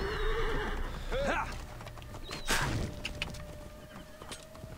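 A horse whinnies loudly near the start in the video game Assassin's Creed Origins, then hooves clop along with scattered clatter and game-like sound effects in the background.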